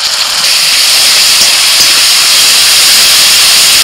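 Ginger, garlic and green chilli paste goes into oil with fried onions for a prawn malai curry. It gives a loud, close, steady hiss of sizzling that runs evenly and cuts off at the end.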